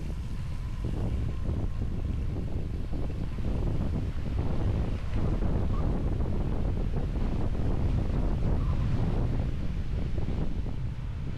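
Strong wind on a mountain rushes and thumps against the microphone in a steady, loud roar with low rumbling gusts throughout.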